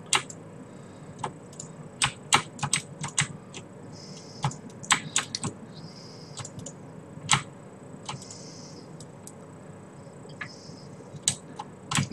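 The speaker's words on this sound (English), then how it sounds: "I'll click every second one." Computer keys and mouse clicked sharply while playing the video game Rift, irregular close clicks in clusters with quiet gaps and soft faint game tones in between.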